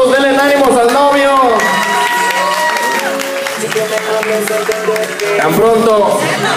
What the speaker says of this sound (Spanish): A ver, los aplausos, denle ánimos al novio.